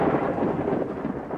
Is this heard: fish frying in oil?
no